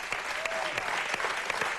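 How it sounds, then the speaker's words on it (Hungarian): A studio audience applauds in a continuous, even wash of many hands clapping, loud and sustained throughout. "miközben hallod ezt a tapsot"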